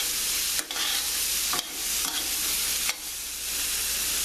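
Flour-dusted beef short ribs fry in a pan with a dense, loud sizzle and spattering grease, broken by a few scraping stirs.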